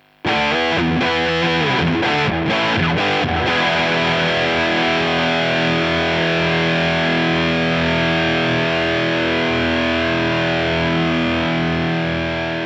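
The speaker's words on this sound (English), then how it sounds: "We start off with high gain, and this is beyond brown sound with a lot of string separation too" A heavily distorted high-gain electric guitar, a few choppy palm-muted hits leading into a thick, sustained chord that rings on loudly.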